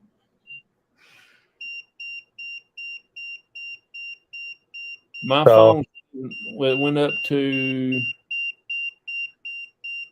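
Radiation meter beeping beside a 5G phone: a steady train of short, high electronic beeps at an even pace, briefly covered while people talk, then continuing.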